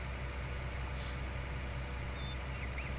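A tractor engine in Farming Simulator 19, working on plowed ground, gives a steady, loud, low diesel drone that holds constant throughout with no talking.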